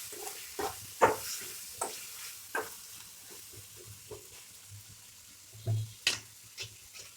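Onion, tomato and stuffed eggplant are stirred in a pan, with intermittent spoon knocks and scrapes over a soft, low sizzle, close by and without talk.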